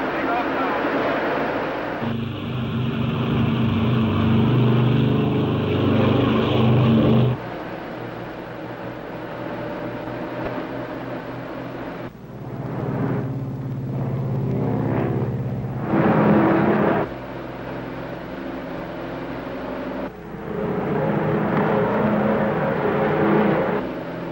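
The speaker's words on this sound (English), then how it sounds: "Ready for takeoff. Takeoff power." Propeller airliner engines run at takeoff power in a 1953 flight, a steady loud droning roar heard from inside, rising and shifting in level over the run, with voices talking over it.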